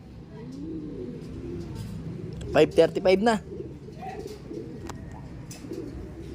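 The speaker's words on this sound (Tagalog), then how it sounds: "At naronda pa nga pala yung mga ibon natin." Pigeons coo and flutter softly in the background while someone talks, with a brief burst of wing flapping in the middle.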